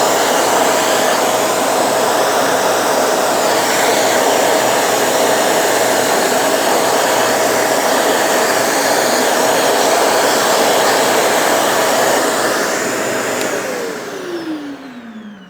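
A loud, steady whine from a Shark Navigator Lift-Away Deluxe vacuum cleaner runs continuously up close, then winds down with a falling pitch as it switches off near the end.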